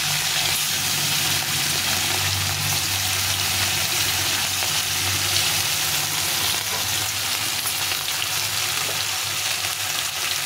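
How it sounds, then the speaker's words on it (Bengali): Hilsa fish fries in hot oil, a dense, even sizzle that holds steady and close for the whole stretch with a faint low hum beneath, no voices over it. "তেলটা গরম হয়ে গেছে, মাছটা ভাজি আর তোমাদের সঙ্গে কথা বলি।"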